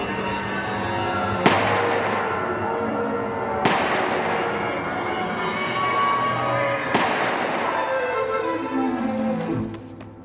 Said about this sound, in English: Adam, go shoot him in the back